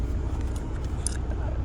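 Steady road traffic on the Mumbai–Goa highway near Indapur, a continuous low rumble of passing cars with light hiss, heard from close by and fairly constant throughout.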